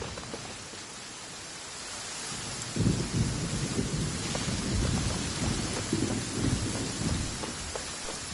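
A thunderstorm in Genshin Impact: steady heavy rain hisses throughout while deep rolling thunder swells in partway and rumbles on, loud and close, with no talking.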